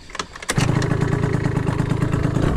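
A ZIP scooter with an MHR variator upgrade is kickstarted: a couple of brief kick strokes, then the small engine catches and settles into a steady, close buzzing idle.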